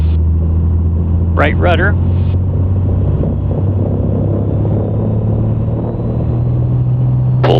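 A Piper Comanche 250 engine drones loudly and steadily at full takeoff power, a deep constant rumble heard from inside the cabin, with a short spoken callout near the start.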